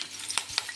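Chillies dropped into leftover hot oil for a tempering, a brief hiss with two sharper crackling spits over a faint steady sizzle, close and quiet.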